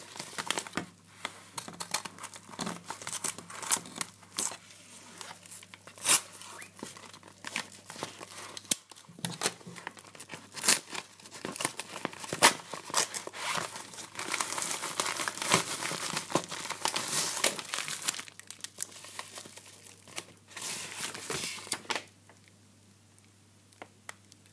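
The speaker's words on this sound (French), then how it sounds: "je vais prendre un ciseau et je vais couper" A package is cut open with scissors amid steady crinkling and rustling of packaging, close and continuous, building to a denser stretch of crackle before falling quiet near the end; no speech.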